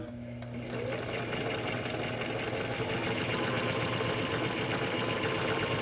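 A sewing machine runs a seam through fabric, its needle chattering in a fast, steady rhythm that starts after a brief pause and continues loud and close to the end, with no one speaking.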